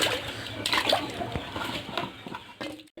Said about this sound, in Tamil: இப்போ கட் பண்ணதை இன்னொரு வாட்டி கழுவிக்கலாம். அப்படியே போட்டு தண்ணியில் போட்டு கழுவிக்கலாம்